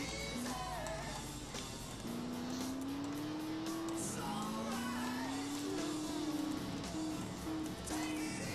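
Car driving in GTA San Andreas, engine droning steadily with a rising pitch as it accelerates, with rough knocks of the vehicle getting wrecked, loud and continuous throughout.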